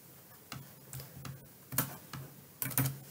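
Computer keyboard keys clicking in short, uneven bursts, a few sharp taps close to the microphone with pauses between, in a quiet room without talking.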